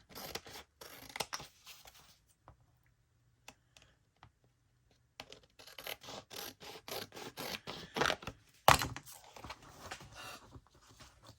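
Scissors trimming a paper pocket stuffer for a junk journal, bursts of crisp snipping and cutting with pauses between, close and clear, ending in a sharper rustle of paper.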